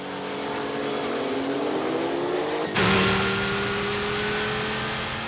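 A Porsche 911 Turbo and a Nissan GT-R accelerating flat out side by side in a 1991 supercar drag race, their loud engines rising steadily in pitch, with a sharp gear change midway before the roar climbs again.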